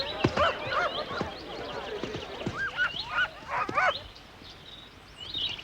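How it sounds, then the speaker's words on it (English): Hounds from working packs on show at Scottish Borders horse trials, giving a clamour of overlapping yelps and bays, fairly close and continuous, with several loud bursts and a few faint voices of people mixed in. "The packs of hounds on show here are working dogs, taking a day off from their more serious employment."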